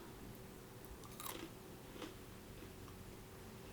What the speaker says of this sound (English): It's crunchy, and I can hear it crunching when I bite into it.